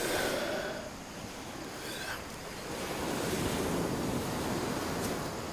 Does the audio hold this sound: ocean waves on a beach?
yes